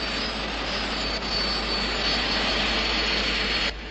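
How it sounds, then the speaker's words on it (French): A loud, steady engine roar, like a helicopter's, droning on continuously with no voices and a brief dip near the end. "J'entends le bruit du moteur d'un hélicoptère, Parker."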